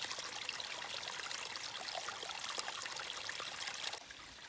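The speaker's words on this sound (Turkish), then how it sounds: "Bunlar yağmurla oluşan küçük derecikler." Small rainwater streams trickling and splashing in a continuous close flow, dropping a little quieter near the end.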